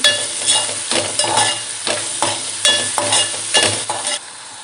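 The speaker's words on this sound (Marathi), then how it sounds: "आणि तेही मिक्स करायचं आहे यामध्ये." Konkan dry fish being stirred with salt in a hot pan, a series of loud, close spatula scrapes in an uneven rhythm over a sizzling background, about eight strokes before it quiets.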